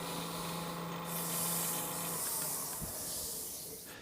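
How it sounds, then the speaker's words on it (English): A spray bottle mists water onto a turned wooden whiskey tumbler to raise the grain, a steady close hiss lasting several seconds with a faint hum beneath. "I'm going to spray it with some water."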